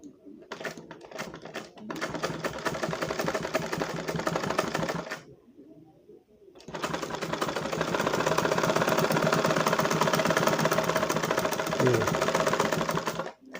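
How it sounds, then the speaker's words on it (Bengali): Sewing machine stitching coat fabric along a marked line while making a wallet pocket, a loud fast steady rattle that stops briefly for about a second and then runs on continuously. "এই দাগ বরাবর এটা সেলাই করে দেব"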